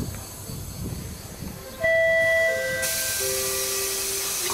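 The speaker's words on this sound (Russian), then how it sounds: "Пассажирский поезд номер 511, Москва, Адлер, прибыл на четвертый путь." Passenger train Moscow–Adler at a station platform, a steady hiss of air brakes or steam with long tonal whines rising in, loud and close, continuing without talk.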